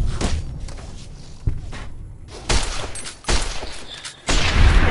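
Gunshots in Fallout: New Vegas crack out as a handful of sharp, separate reports at uneven intervals, mixed with footsteps and game ambience.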